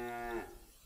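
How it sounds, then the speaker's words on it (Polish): A single short cow moo in the video game Ultima Online fades out within half a second. It is moderately faint, with no talk. "Mrr, tamte krowy, kurde."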